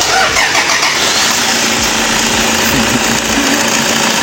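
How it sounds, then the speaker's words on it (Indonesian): Toyota Innova after a major service, its diesel engine cranking and starting, then running on as a loud, dense, steady mechanical roar close by. "Kita lanjut eksekusi dan penghidupan mesin."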